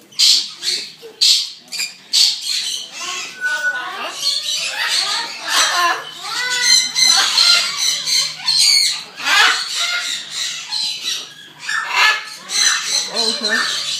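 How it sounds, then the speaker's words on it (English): A loose pet bird squawks loudly and repeatedly at close range in harsh, rasping bursts, with excited voices talking over and between the calls indoors. "Bird on the loose."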